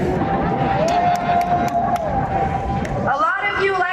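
Crowd of protest listeners applauding and cheering, a dense steady wash of clapping and voices with a brief whistle-like tone rising above it, cutting off near the end.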